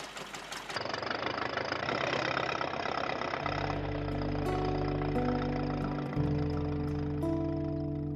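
A running engine, heard as a steady, loud drone with held mechanical tones that thicken and shift partway through, continuous for the whole stretch with no talk.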